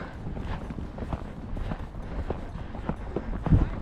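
Hooves of a ridden horse clip-clop steadily at a slow, controlled pace during a jumping session, with faint tack creaks and a brief louder bump near the end.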